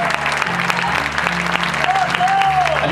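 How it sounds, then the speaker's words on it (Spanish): An audience applauds a percussionist at a live instrumental show, dense sustained clapping layered over a low bass-heavy band groove that keeps playing underneath. "fuerte el aplauso para él"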